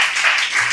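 A church congregation clapping their hands together during a sermon, a brief burst of dense, steady applause filling the room.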